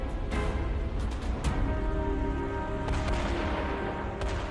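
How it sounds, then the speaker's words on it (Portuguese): Dense, continuous machine-gun fire crackles throughout, with sharper bursts and heavy mortar thuds mixed in, a Pacific War amphibious beach battle. "Os disparos de metralhadoras aumentam e morteiros começam a cair."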